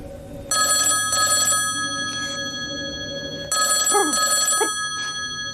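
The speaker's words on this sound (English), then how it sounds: "I'm dialing now." A telephone rings after being dialed, two loud ring bursts near the start and another pair later, with a continuous ringing tone, heard close and clear with no talking.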